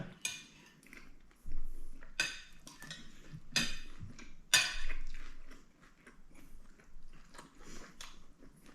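Metal spoon clinks and scrapes against a dish as sticky rice and larb are scooped up for dinner, several sharp taps spaced through a quiet room, with faint chewing in between.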